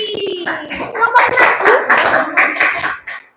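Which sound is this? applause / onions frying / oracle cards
applause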